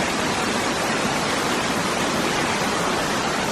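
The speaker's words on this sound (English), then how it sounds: "and then the waterfall's just over there" Steady broadband rush of a waterfall heard from a high edge above a long drop, a dense continuous roar with no breaks and no talk.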